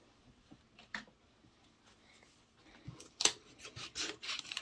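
Close scissors snipping and rubbing against paper, a few scattered cuts becoming louder and busier toward the end, with no talking.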